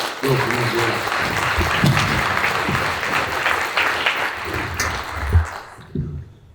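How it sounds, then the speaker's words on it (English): A massive round of applause from the audience at the APNA Awards ceremony, dense steady clapping with crowd noise that tapers off near the end. "let's have a massive, massive round of applause for Nazir"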